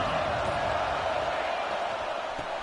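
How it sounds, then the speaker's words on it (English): A big stadium crowd at a college football rivalry game roars in a steady, dense wash of cheering and chatter, sustained and fairly loud without distinct breaks. "Listen to the crowd energy here in the early going."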